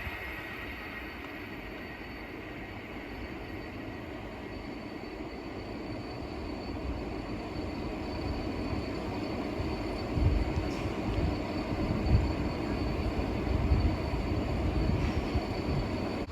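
An Avanti West Coast Class 390 Pendolino running from Manchester Piccadilly to London Euston passes by as a continuous rumbling roar that swells gradually and grows louder and rougher toward the end.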